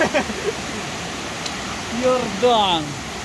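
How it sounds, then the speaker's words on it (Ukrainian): The Cheremosh river rushes steadily as someone wades across it on foot during a rainy, flooded Carpathian hike, a constant close broadband roar with voices speaking over it. "Переходжу через річку Черемошу."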